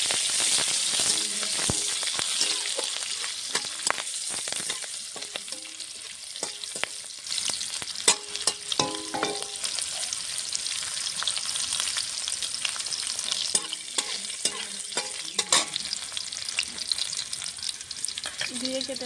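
Ginger and green chillies fry in a pan with a bright, continuous sizzle, broken by scraping stirs and clatters from the spoon, close and steady, with a voice speaking briefly.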